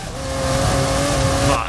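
Car engine revving hard in Forza Horizon 5, a loud steady drone that holds close and rises slightly toward the end.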